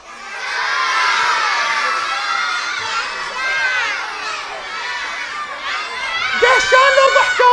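A children's theatre audience at a family Eid play shouts answers back to the stage, a loud sustained chorus of young voices that dips midway and then swells into excited cheering.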